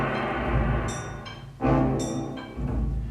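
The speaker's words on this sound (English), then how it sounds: "So the percussion plus the gong plus the low brass sounds like this" Orchestral film score cue with pounding percussion, gong swells and low brass, rising in surges with heavy booming hits around the middle and near the end, loud and full throughout.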